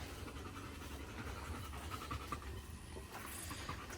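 A dog pants rapidly and steadily nearby, quiet breathy puffs repeating under faint background noise.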